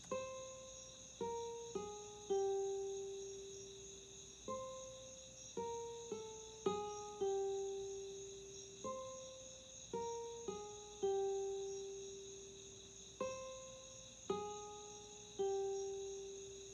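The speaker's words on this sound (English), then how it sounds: "I'm using a simple guitar thing that I just laid out real quick" A simple plucked guitar melody of short repeated phrases, each note ringing and decaying, played alone with a faint high steady tone behind it.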